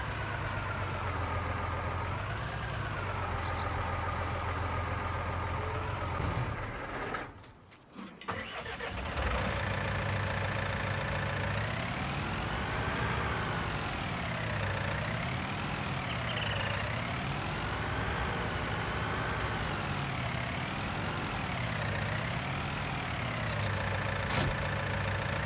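A John Deere tractor engine in the game Farming Simulator 19, a steady droning hum that drops out briefly, restarts, then rises and falls in pitch through repeated revving swells, loud and without talk.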